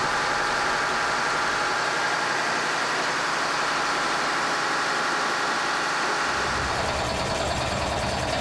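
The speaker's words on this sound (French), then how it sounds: "Un moteur de 400 chevaux propulsait le navire." A 400-horsepower diesel engine on a pinisi ship in Indonesia runs loud and steady, a constant rough drone that shifts slightly in tone near the end.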